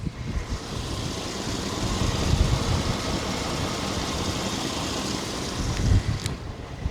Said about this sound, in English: That motor sound good as hell to me.